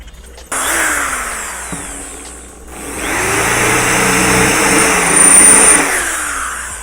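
Electric drill with a tile bit boring a hole in tile: a loud, close motor whine that starts, dips, then rises again and holds steady as the bit grinds through, with no talking.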